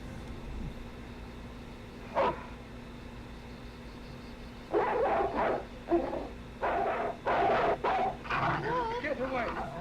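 A dog barks in short bursts and then whimpers and whines in a werewolf horror film set in a girls' dormitory, with sharp yelps spaced over a steady hiss while people talk over the scene.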